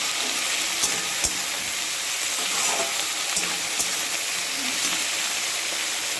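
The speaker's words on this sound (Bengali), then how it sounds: "তো এবার আমি এটাকে ভালো করে কষে নেব" Spice paste with turmeric, ginger, garlic and a homemade masala mix sizzles steadily in a hot pan, with occasional sharp clicks of a spoon stirring, a dense even crackle with no voices.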